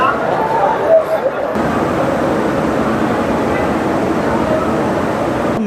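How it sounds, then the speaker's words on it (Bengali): Inside Sealdah railway station in Kolkata, a broad, steady wash of concourse noise fills the space, with a diffuse crowd murmur and distant rumble continuing evenly throughout. "এই হচ্ছে শিয়ালদা স্টেশনের ভেতর।"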